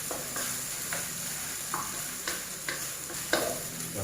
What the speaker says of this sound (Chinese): 把它炒到香味出来